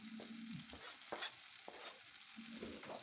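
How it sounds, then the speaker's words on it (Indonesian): Garlic and chili sauté in a pan with a soft continuous sizzle, punctuated by scraping stirs and light utensil taps, faint and close. "Tumis bawang putih dan cabenya."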